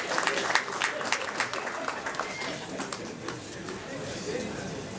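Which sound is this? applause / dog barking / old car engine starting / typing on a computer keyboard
applause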